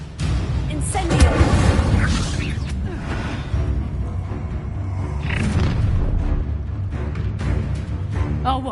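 Fire spell cast during combat in the Hogwarts Legacy video game, heard as loud bursts, booms and whooshes layered over continuous dense battle noise.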